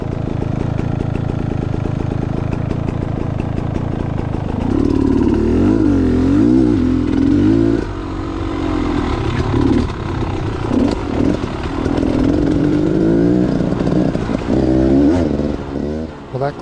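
A dirt bike lapping a wet motocross track at Foxboro on a damp morning, its loud engine revving and rising and falling through throttle blips and shifts, close up and steady across the whole stretch.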